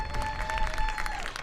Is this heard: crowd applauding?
yes